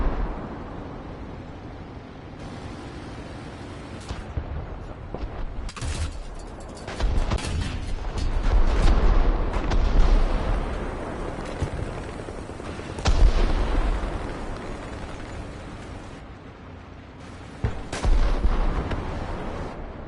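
In the War Thunder video game, gunfire and artillery boom out in repeated loud bursts and rumbling blasts with quieter gaps between them, carrying on throughout with no talking.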